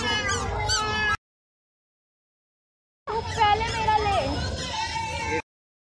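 A cat meows repeatedly in two short bursts separated by a silent gap, its cries rising and falling, with voices mixed in nearby.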